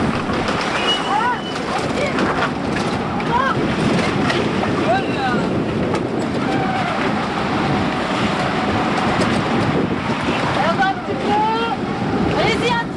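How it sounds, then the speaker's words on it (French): Wind and rain lash a sailboat at sea, a loud continuous roar of gusts and water with mic buffeting, voices calling out intermittently over it. "Le vent et la pluie nous fouettent."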